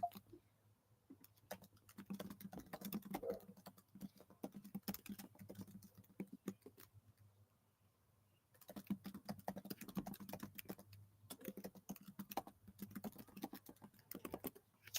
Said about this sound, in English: let me type this real quick for the person calling me